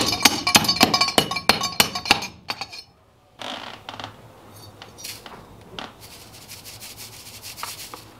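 Hard rock gold ore is smashed, a rapid series of loud sharp metallic impacts, then a brief pause and softer grinding, rubbing and scraping of crushed rock.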